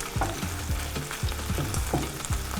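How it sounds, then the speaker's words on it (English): Shrimp fry and sizzle in a hot pan with a continuous crackling hiss, broken by quick scraping stirs. It is close, moderately quiet, and has no voices. "You can hear the sound of the shrimp cooking, and it's beginning to bring out its aroma"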